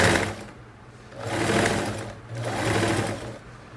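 A domestic sewing machine stitches fabric for a cloth nappy cover, its motor whirring loudly in two or three sustained runs with brief slowdowns between them, close up and with no talking.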